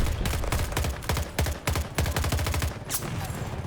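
Dense bursts of gunfire from the video game Battlefield 2042, rapid repeated shots and volleys running almost continuously and loud throughout, with a brief lull near the end.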